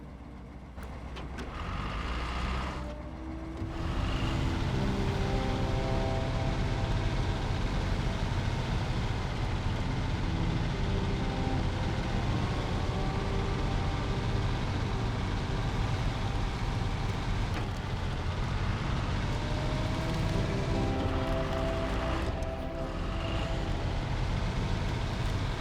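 Heavy truck engine in SnowRunner, a steady loud low drone that rises after a quiet start and holds throughout with faint whining tones above, no voices.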